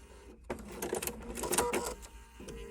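Sewing machine running in short bursts while stitching a quilt block on a paper foundation, a close mechanical whirring that starts, pauses briefly and resumes.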